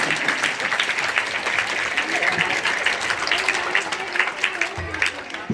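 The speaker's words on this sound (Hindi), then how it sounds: "एक बार माता जी को जोरदार ताली" Hearty applause at a school gathering for a mother, loud and continuous clapping from a crowd, with a few voices murmuring beneath.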